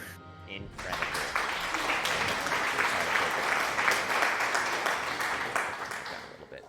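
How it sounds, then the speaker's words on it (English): An audience at a live adventure show bursts into applause, a dense wash of clapping that swells quickly after a brief pause and holds steady before easing off. "Thank you for the applause."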